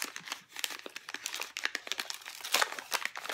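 Gift wrapping paper crinkling and rustling close up, a continuous run of crisp crackles and scrunches at moderate volume with no talk.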